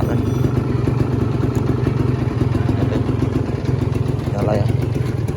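Two-stroke 2015 Kawasaki Ninja R motorcycle engine running close by with a steady, throbbing idle and a faint clatter throughout.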